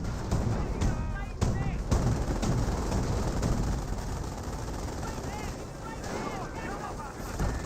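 Half-track gunfire in the World War II strategy game Company of Heroes, a dense rattle of distant bursts and shots under a low battle rumble, with someone talking over it.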